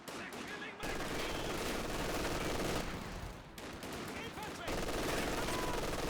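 Dense MG42 machine-gun fire rattles through a Company of Heroes 2 battle, loud and nearly continuous, with brief dips between long bursts and heavy overlapping gunfire throughout.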